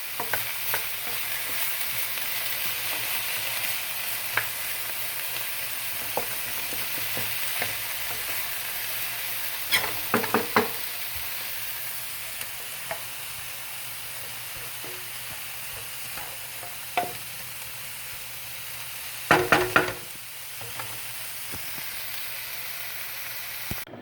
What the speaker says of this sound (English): fry on our vegetables and the onions and garlic. And we'll get them browned up a little bit.